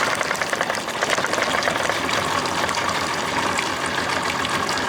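Evinrude 55 hp outboard engine running steadily and loudly close by, a continuous rough churning drone with rapid knocking pulses and no voices.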